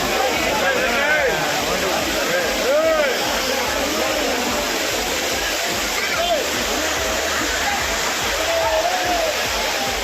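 Courtallam's waterfalls roar with a dense, loud and continuous rush of falling water. Bathers shout and call out faintly over the torrent.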